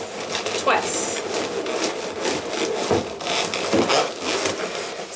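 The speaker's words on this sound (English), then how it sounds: "I'm going to grab the end of the inflation valve of the orb, and then I'm just going to twist these balloons" Latex party balloons being twisted together onto an orb balloon's inflation valve, a steady close rubbing squeak and scrape of rubber with a few sharper creaks, and a brief spoken word.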